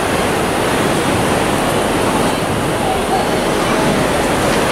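Wave pool at Soaky Mountain Waterpark in Sevierville, Tennessee, churning out waves as a steady, loud broadband wash of surf that holds evenly throughout, with no clear breaks between swells.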